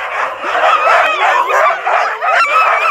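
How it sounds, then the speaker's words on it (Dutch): Many sled dogs, eighteen in all, yipping, barking and whining together in a continuous, excited chorus, loud and close, with no pauses, training in snow in the Netherlands. "in totaal hebben we 18 honden. En ze maken best wat herrie."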